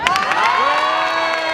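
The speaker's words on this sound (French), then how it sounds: "Tiens, allez, on applaudit." A crowd at an Art to Play 2015 gaming convention talk shouts and cheers in one loud, bright burst of whoops and voices, with little clapping audible over the cheering.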